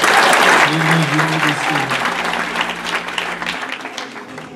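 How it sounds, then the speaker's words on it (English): A church congregation claps together during a Sunday service, loud, close applause that starts strong and gradually thins out, with some voices in the room underneath. "Can you give God a hand clap?"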